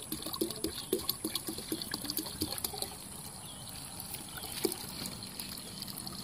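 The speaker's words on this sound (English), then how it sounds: "we're gonna go ahead and top off this jug, this bucket, because we're looking to make 5 gallons of beer" Water is poured into a bucket to top off beer wort for a five-gallon batch of honey ale, a close, moderate splashing trickle that pulses at first, then settles into a softer steady flow.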